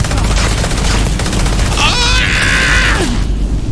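Sustained gunfire and dense rattling blasts from the space video game Starfield fill the moment loudly and continuously, with a whining, whistling tone rising over the barrage partway through.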